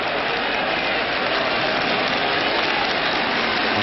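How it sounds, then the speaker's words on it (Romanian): A football stadium crowd applauding at a 1987 Romania versus Spain Euro-88 qualifier, a dense, steady, hissing wash of clapping that fills the whole stretch with no pauses. "Aplauze astăzi"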